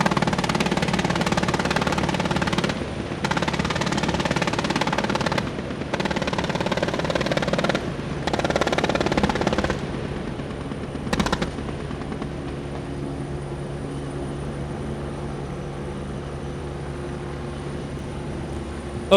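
Heavy rotor and engine noise from a Super Lynx military helicopter during a live-fire exercise, loud and close, with an FN 12.7mm M3M heavy machine gun firing in several sustained bursts over it before the noise steadies to a drone.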